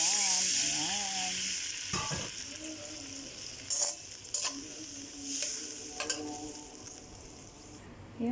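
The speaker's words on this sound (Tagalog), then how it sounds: "Tapos igisa natin yung pinagmarinigan." Pork chop marinade sizzles in a pan for a Filipino-style pork chop steak, a steady frying hiss with intermittent clinks and scrapes of stirring; a brief voice-like tone opens the clip.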